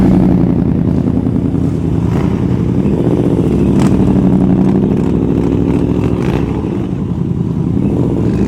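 A motorcycle rolls along at slow speed during a riding skills practice session, its engine holding a steady, continuous drone with small throttle changes, close and fairly loud throughout.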